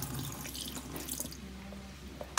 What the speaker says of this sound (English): So we gotta drain off the rest of the lime juice.